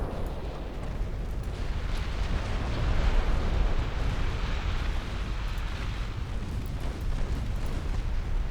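Torpedo hits on warships in the naval game Ultimate Admiral Dreadnoughts, a continuous heavy rumbling roar of blasts and churning water that swells slightly midway and stays dense and loud throughout.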